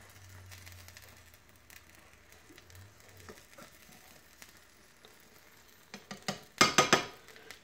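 An egg white vegetable omelette topped with asparagus cooks in a pan with a faint, low sizzle, then a short loud burst of utensil scraping and clatter near the end.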